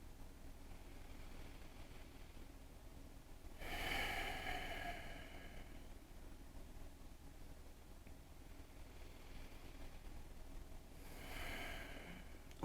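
Two deep breaths taken during a yoga stretch, each a soft rushing exhale several seconds apart, close and fairly quiet, with no talking in between.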